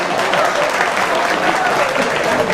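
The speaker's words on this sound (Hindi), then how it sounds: "एक बार जोरदार तालियां बजा दीजिए" An audience at a Hindi stand-up comedy show breaks into loud, sustained applause, a thick wash of clapping close and full throughout.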